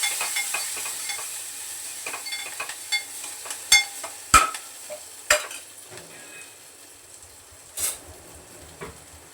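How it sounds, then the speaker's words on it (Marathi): Coriander leaves dropped into a small amount of hot oil for a chickpea curry, giving a steady soft sizzle with scattered sharp clinks and stirring knocks of a utensil against the pan, close and without talk. "आता ही कोथिंबीर तेलामध्ये टाकून देते"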